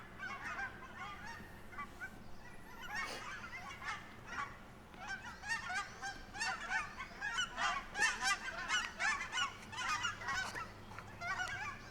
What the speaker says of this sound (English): the audio distraction of the geese migration